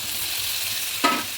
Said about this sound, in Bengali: এর মধ্যে দিয়ে দেবো আমি এবারে ভাজা চিংড়ি মাছটা